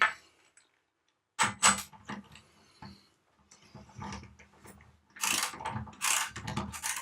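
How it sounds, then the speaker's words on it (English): Ratchet handle cranking a thread chasing tool through a galling C-Sert thread, heard as several loud bursts of rapid metallic clicking separated by short pauses, close and without talk. "once it galls, I'm going to turn it the rest of the way to the ratchet"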